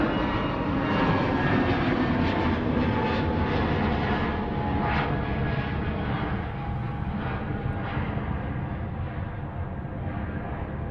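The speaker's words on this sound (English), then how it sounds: "GUZHL, also known as Zorro, heading off to Corfu, Kirkera, flight 2061 A320 Neo." Roar of an Airbus A320neo jet departing Manchester Airport for Corfu, a steady, loud, broadband engine rumble that holds throughout and eases slightly toward the end.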